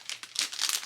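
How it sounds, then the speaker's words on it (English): A plastic bag crinkles in short, crisp bursts while an order is packed, close up and fairly loud for under a second, with no talking. "plastic bag."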